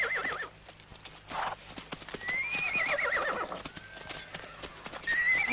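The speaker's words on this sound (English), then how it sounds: "Just take your 20 horses and clear out of here." Horses' hooves clip-clop in an uneven patter nearby, and a horse lets out a high whinny partway through.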